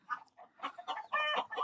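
A white rooster clucking and calling in short, uneven bursts close by, fairly quiet, with no other sounds around it.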